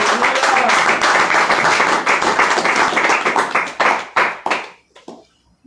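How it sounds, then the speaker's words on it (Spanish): A church congregation claps during a sermon, dense and lively at first, then breaking into a few separate claps that die away into near silence. "Le damos un aplauso al Señor."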